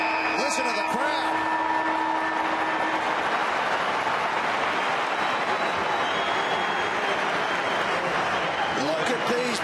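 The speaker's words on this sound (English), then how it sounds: "Listen to the crowd." A St Kilda football crowd in a large stadium roars and cheers at the final siren of a game against Fremantle, with a dense, sustained wash of crowd noise, whistles and a few tonal siren-like lines early on, under commentary.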